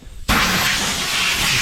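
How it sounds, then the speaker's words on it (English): An air compressor's nozzle blasts compressed air across a tractor tire rim, a loud, steady hiss that bursts in abruptly after a quiet moment and holds at full strength to the end. "take an air compressor and I'll blow out the"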